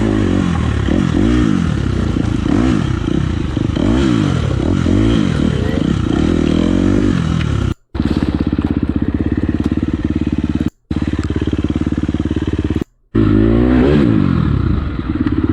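A motorcycle engine revs hard and continuously while riding over rough off-road terrain, with clattering and scraping from the bumpy ground and a few brief cuts in the sound.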